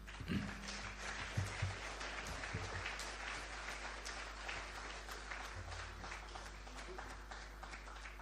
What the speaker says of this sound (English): another round of applause for our Honorable Minister